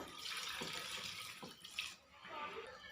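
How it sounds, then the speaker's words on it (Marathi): Water is poured into a cooking pan of pav bhaji vegetables in a steady splashing stream, pausing briefly before resuming more softly, with a few light clinks. "आता यामध्ये पाणी घालूया"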